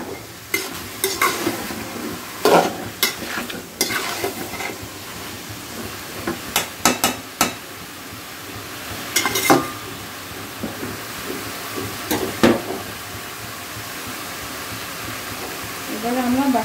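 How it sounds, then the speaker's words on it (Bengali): A spoon stirs and scrapes through chicken vegetable curry sautéing in a pan, sharp clacks and scrapes recurring at irregular intervals over a steady soft sizzle, close by. "ভালো করে সবজিটাকে একটু নেড়ে চেড়ে কষিয়ে নিতে হবে।"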